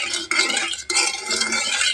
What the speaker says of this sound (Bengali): এখন আমি নাড়াচাড়া করে শিরাটা তৈরি করে নেব।